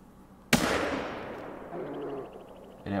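A single hunting rifle shot in theHunter: Call of the Wild cracks loudly and suddenly, then rolls away in a long fading echo over a quiet outdoor background, with another faint sound at the end.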